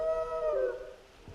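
Torgal, a dog in Final Fantasy XVI, lets out a single drawn-out howl that bends downward and fades, fairly clear and close, with nothing else heard around it.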